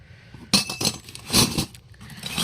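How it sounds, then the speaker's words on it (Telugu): Miniature steel water pots from a toy kitchen set clink and knock together as they are handled, a cluster of bright metallic taps in quick succession, close and fairly loud. "ఇవి బిందెలు అనమాట, మినియేచర్ బిందెలు."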